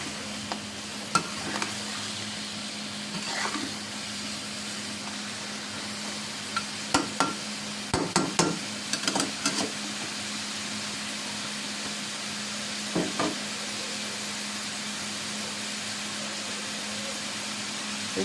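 Cabbage being sautéed in a pan for beef caldereta, a steady sizzle and hiss throughout, broken by a few clattering stirs and scrapes of a utensil against the pan.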